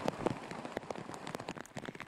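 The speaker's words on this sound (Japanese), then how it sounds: "大粒の雨が激しく地面に打ちつけるように降っています。" Heavy rain with large drops in Gero city, pounding the ground in dense, irregular spatters and sharp individual drop hits at close range, with no speech.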